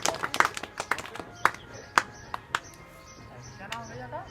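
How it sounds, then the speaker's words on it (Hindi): Children clap at a community outreach program in Azamgarh, a scattered run of sharp, uneven claps that thins out, with voices talking between them. "इनके लिए ताली बजाओ पहले। ताली बजाओ भैया।"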